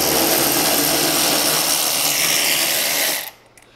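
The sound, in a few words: DeWalt cordless impact gun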